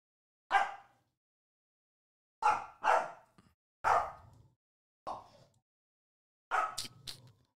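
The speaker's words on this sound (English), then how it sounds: "She's barking at Fiona, and Fiona is growling at her while still chewing the fucking chew toy." Dog barks come in short, sharp bursts: one alone, then a quick pair, then single barks spaced apart, ending in a doubled yip, all close and loud against a quiet room during play with another dog.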